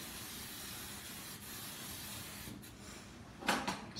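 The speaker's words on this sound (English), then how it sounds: "So we're just going to spray our pan." Release spray from an aerosol can misted onto a loaf cake pan, a soft continuous hiss running for several seconds, then a short louder spurt near the end.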